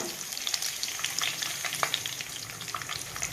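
Cashews fry in a mix of ghee and oil, crackling and popping close by with a continuous light sizzle and occasional stirring clicks, with no voices.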